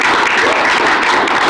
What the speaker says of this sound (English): Big round of applause for Bonnie.